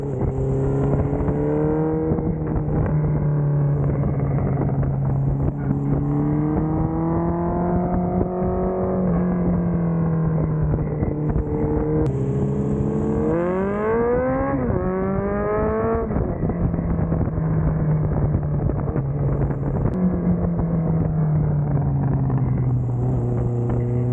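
A Honda CB1100 motorcycle with a loud aftermarket Delkevic exhaust runs close by, deep and throaty, revving up in several swells before settling back to a steady rumble.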